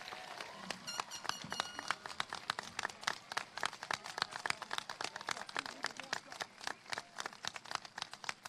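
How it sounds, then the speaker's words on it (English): A high school graduation audience at Oak Hill High School applauds new military enlistees, with scattered, uneven claps popping close and far through the crowd at a moderate level. "Ladies and gentlemen, a round of applause for these newest enlistees."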